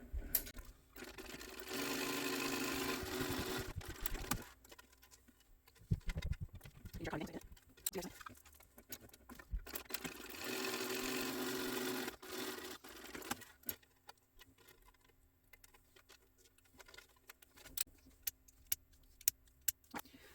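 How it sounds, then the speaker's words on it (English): A sewing machine stitches down both edges of a fabric clutch strap in two bursts of steady, close whirring separated by pauses, with handling clicks and rustles in between and none afterward. "I'm going to sew down both edges of this."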